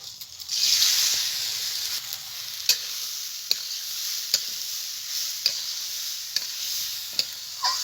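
Gobindobhog rice mixed with spices being fried in a pan with whole spices, cashews and raisins: a steady close sizzle broken by sharp spatula scrapes and stirring clicks at regular intervals, with no talk.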